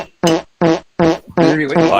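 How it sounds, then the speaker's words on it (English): Loud fart sounds during a political talk show, four drawn-out, buzzing bursts in quick succession with short gaps, the last one longer and wavering. "I think you just have to talk louder than the farts."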